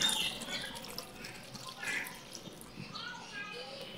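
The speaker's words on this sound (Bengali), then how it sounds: "দিয়ে দিচ্ছি সামান্য পানি।" A little water trickles faintly into potato leaves mixed with salt and oil while cooking a taki fish bhorta, a soft brief pour and drip with a quiet voice in the background.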